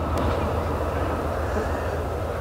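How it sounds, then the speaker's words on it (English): An Amtrak train passing near a small-town baseball field, a steady, loud low rumble and roar that holds evenly throughout without a break. "As another train goes by. Fortunately, this is Amtrak and it won't take too long."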